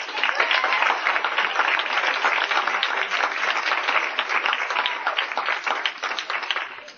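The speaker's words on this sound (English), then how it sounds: "I would like to thank them with a round of applause at least" A 1989 banquet audience applauds color guard instructors, dense steady clapping from a crowded room that runs for several seconds at an even level with a slightly thin, band-limited tone.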